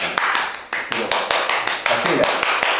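Applause at a live comedy show, a crowd clapping in a dense, sustained burst with sharp individual claps standing out, continuing loudly through the whole stretch with voices mixed in.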